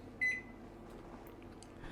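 A microwave oven heating s'mores gives one short, clear beep near the start, followed by a faint, steady running hum.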